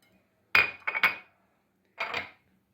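Cookie batter with molasses and cocoa being stirred in a bowl for a sugar-free, oil-free cookie, giving three close, short bursts of spoon clinking and scraping against the bowl, separated by brief silences.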